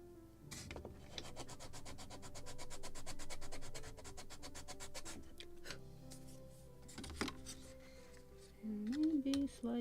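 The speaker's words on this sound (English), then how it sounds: "And maybe slight sanding" Sandpaper rubs the wooden planking of a 1776 gunboat Philadelphia model in a rapid, steady back-and-forth rasp, close and fairly quiet, with pauses and scattered knocks.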